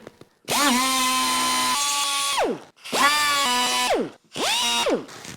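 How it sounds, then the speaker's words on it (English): A die grinder with a carbide bit whines at high pitch in three bursts, each spinning up, holding a steady loud tone, then winding down, close up, used in work on a 3rd gen RAM Longhorn truck. "I honestly don't know what I did before carbide bits and die grinders."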